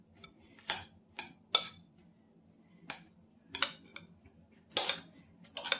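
Keto bread pudding ingredients stirred in a bowl produce sparse, bright clinks and scrapes of a utensil against the bowl, about eight distinct knocks with quiet gaps between, close up and without talk.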